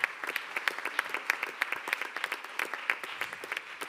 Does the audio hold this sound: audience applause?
yes